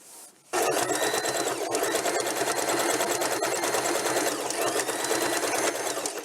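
Sewing machine stitching fabric for a handmade toy bunny, starting abruptly after a brief quiet moment and then running at a fast, steady, continuous clatter close up.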